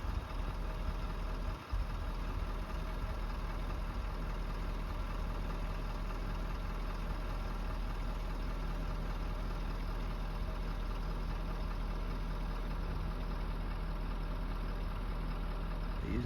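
A car engine hums at a steady low drone while the car drives into snowy mountains, with continuous road and cabin rumble and no other clear sounds.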